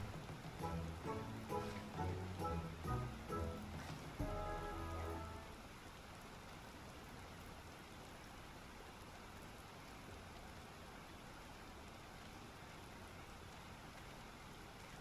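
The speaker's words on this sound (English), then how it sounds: "Hey, look, I summoned rain." Rain falls in the Final Fantasy XIV video game, a soft, steady patter that continues quietly alone after some louder tonal game sounds fade out in the first few seconds.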